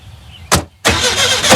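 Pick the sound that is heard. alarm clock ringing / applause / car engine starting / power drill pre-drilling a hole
car engine starting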